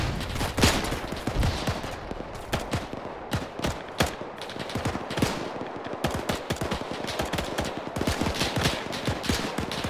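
Dense, continuous gunfire in the Iron Front video game, with many overlapping rifle and machine-gun shots cracking at close and middle distance for the whole stretch.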